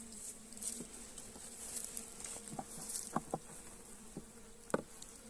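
Honey bees buzz softly around a hive frame of newly built comb, a faint steady hum with scattered brief louder passes and light tapping.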